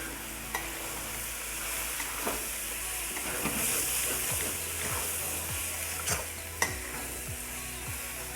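A spoon stirs tawa pulao mixture in a hot pan, with a steady sizzle of frying underneath and repeated scraping strokes across the metal, close and clear.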